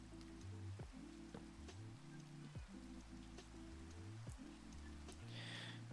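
Soft, steady video game rain patter with scattered drops, faint and continuous, over a low, looping tonal background.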